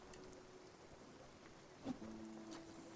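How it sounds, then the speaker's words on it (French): Steady, faint rain in the video game Spiritfarer hisses continuously, with a soft thump partway through and no voices. "Ah bah il pleut"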